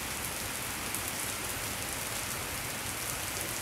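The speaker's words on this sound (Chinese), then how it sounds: "雨很大，" Heavy rain falls in a downpour, a dense, uniform hiss of drops drumming on surfaces that stays loud and close from start to finish, with no talking.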